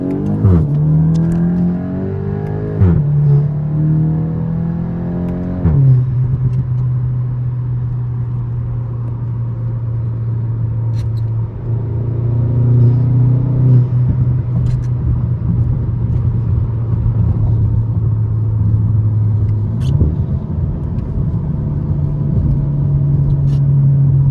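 A 2022 VW GTI with a full catback exhaust drives along, a steady low engine drone rising and shifting through gears with occasional ticks and clatter, loud and close throughout.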